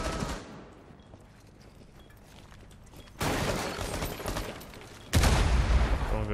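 Bursts of rapid gunfire crackle in two loud volleys after a quieter stretch, automatic weapons fire in Rainbow Six Siege.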